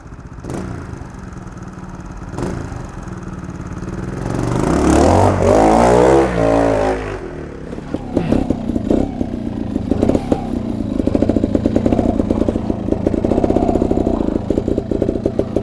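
A Beta four-stroke trials motorcycle rides past in second gear, its engine note swelling loudly as it nears around the middle and then settling into a steady, choppy mid-range drone with light clatter.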